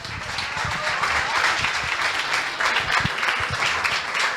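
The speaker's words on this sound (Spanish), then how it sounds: "Y la recibimos con un fuerte aplauso." A lecture audience gives loud, sustained applause to welcome an anthropology speaker, dense clapping filling the whole span without a break.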